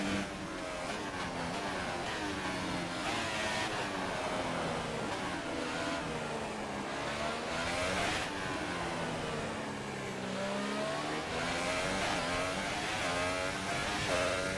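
A Formula 1 car engine in the F1 2018 racing game drones and revs continuously and loudly, its pitch rising and falling through gear changes over a steady lap, with no talk.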